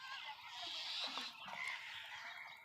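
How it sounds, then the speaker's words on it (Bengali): A flock of domestic ducks from several neighbourhood houses quack and honk together, a continuous chatter of overlapping calls at moderate distance with no talking. "4টা বাড়ির হাঁস"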